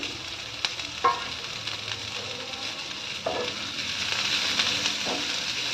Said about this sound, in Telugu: కాస్త ఇలా బాగా వేయించుకోవాలి.